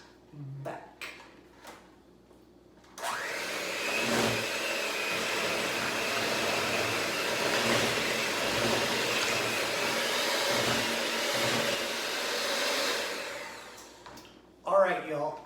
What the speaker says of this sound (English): So I am going to mix this up with a hand mixer.